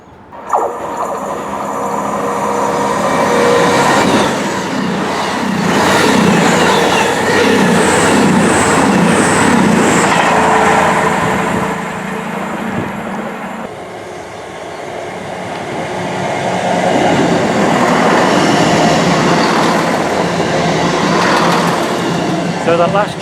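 A train rumbles and rattles past close by through Water Orton station, loud and continuous, easing briefly mid-way before swelling again, with a voice speaking over it.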